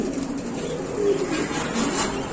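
Pigeons in a pigeon shop coo steadily in a low, continuous chorus. Many birds are close, and the cooing stays loud and sustained throughout.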